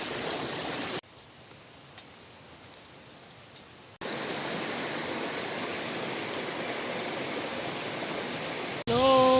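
Sicao Falls produces a steady, broadband rush of falling water. The roar drops to a quieter stretch early on, then returns at full strength, with no speech over it.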